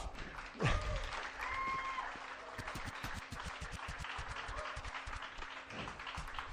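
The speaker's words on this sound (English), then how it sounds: "So please come back all together with a common applause." An audience claps steadily throughout, dense applause with a few whoops and a voice briefly rising above it.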